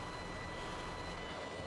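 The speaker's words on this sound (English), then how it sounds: "That's why it's whining. It's an air drill." Steady, droning whine of a pneumatic air drill pulled behind a tractor in Farming Simulator 22, a continuous mechanical hum that holds level and unbroken throughout with no voices.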